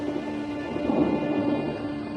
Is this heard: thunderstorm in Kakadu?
yes